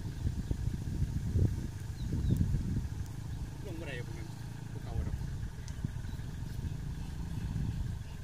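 A Kubota L36 small tractor engine rumbles low and steady while pulling a stuck vehicle in a field, with uneven surges in the throb and people talking nearby.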